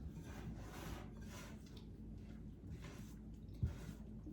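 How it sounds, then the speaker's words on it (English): Spatula scraping and folding cake batter against a bowl, a soft rhythmic rubbing and swishing repeated in slow strokes, fairly quiet and close, with a small knock near the end and no talking. "a light mix so that we can scrape everything in"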